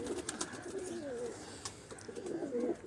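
Pigeons in a cage give soft, repeated cooing calls in gentle rolling phrases, quiet and close, over light outdoor background noise.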